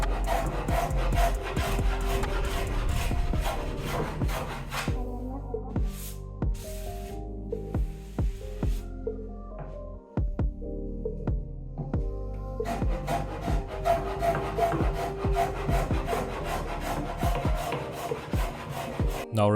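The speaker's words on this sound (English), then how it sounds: "So I now want to plane the end grain of the lower panel" Repeated rasping strokes of a hand plane shaving the end grain of a wooden panel, steady and close, with a brief pause and a few scattered knocks midway before the rhythmic planing resumes.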